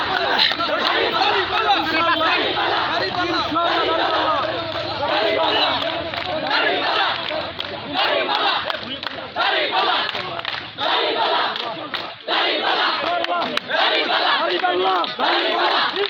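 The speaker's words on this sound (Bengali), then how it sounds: "যে একটা আনন্দ মিছিল সেটি কিন্তু আমরা দেখতে পাচ্ছি" A large crowd at a victory procession in Gaibandha chants and cheers without pause, a dense, loud, rhythmic roar of many voices, with shouted slogans rising in waves throughout.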